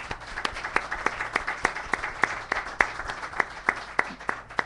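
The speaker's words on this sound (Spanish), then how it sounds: "Un aplauso para ellos, por favor." An audience applauds steadily at a municipal event, with many hands clapping in a dense, continuous patter with sharper individual claps standing out, moderately distant.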